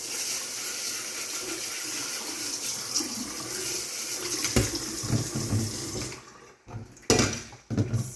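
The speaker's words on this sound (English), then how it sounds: "so we're going to go ahead and wash these in the sink" Stove top parts rinsed under running water in a sink, a steady gushing stream for several seconds, then the flow cuts and a few wet splashes and clunks of the parts follow.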